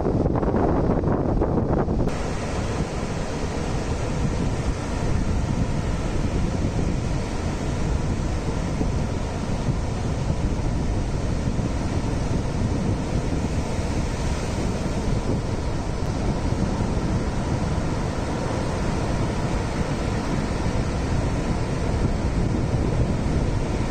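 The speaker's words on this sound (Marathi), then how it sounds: "अथांग असा पसरलेला केळशीचा समुद्र किनारा." Sea waves and wind on the quiet, uncrowded Kelshi beach in Konkan, Maharashtra, a steady, dense roar of surf mixed with microphone wind buffeting that runs unbroken throughout.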